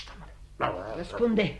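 A dog barks and yips within a radio drama, a short burst of barking blended with actors' voices speaking over it.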